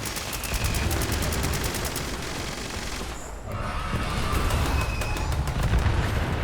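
Heavy explosive weapons firing in Fallout 76, a dense rapid barrage of gunshots and blasts with a rattling burst rhythm, loud and close, briefly dropping out before resuming.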